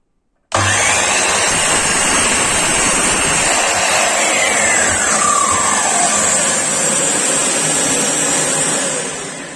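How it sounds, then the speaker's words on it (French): A Kärcher KWD6 workshop vacuum, connected to an Erbauer EMIS216S radial mitre saw, starts abruptly and runs loudly and steadily with a whining motor tone, a fading saw-like whine sweeping down early on, then tapering slightly at the end. "l'aspirateur qui se met en route"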